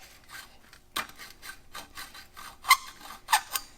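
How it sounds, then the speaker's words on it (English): A reamer turned by hand inside the end of a copper pipe before soldering, giving short dry rasping scrapes in irregular bursts, close and fairly quiet with brief pauses between twists. "Most of the time on copper, we only need to ream it."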